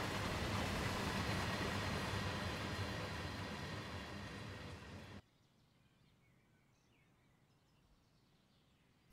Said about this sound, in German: Da fährt er hin, unser Containerzug.